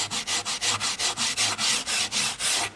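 A rasp hollowing out a piece of carved wood with the round side, about twelve steady rhythmic rough scraping strokes, close and loud with no talk.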